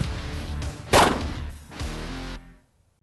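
A single sharp pistol shot fired during malfunction-clearing drills on a shooting range, loud and close, followed by a short fading echo before everything cuts to silence.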